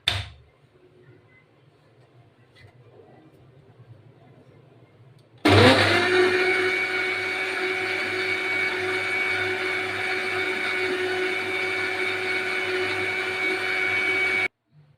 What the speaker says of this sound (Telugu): మళ్ళీ ఒకసారి మిక్సీ పట్టుకుంటాం